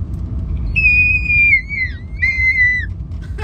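A singer produces a whistle-register note: two long, thin, very high tones that slide slightly downward, separated by a short gap, loud and close over a quiet room.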